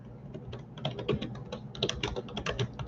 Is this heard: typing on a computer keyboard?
yes